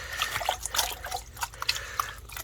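Water sloshes and splashes in a gold pan as creek material is panned down, with irregular wet swishes and drips close by.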